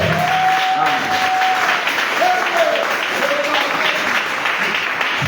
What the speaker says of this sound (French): Acclamons très fort pour le parfait.